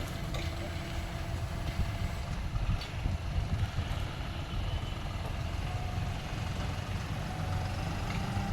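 A large tractor engine runs steadily while electricity posts are loaded onto it, a continuous low rumble with a few faint knocks and clanks, close and even in level throughout.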